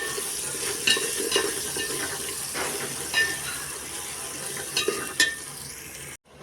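Ginger garlic paste, a teaspoon each of garlic and ginger, sizzles and fries in a pan with onions, with steady crackling and scattered stirring scrapes, close and fairly loud, then a brief silence at the end.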